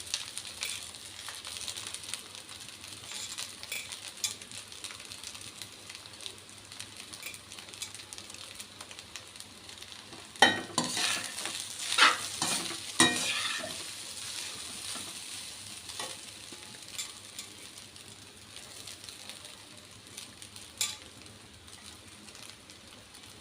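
Chicken fried rice being stir-fried in a pan in restaurant style, with a steady, moderate sizzle throughout and a louder burst of tossing and scraping midway, then a return to gentle frying, with no voices.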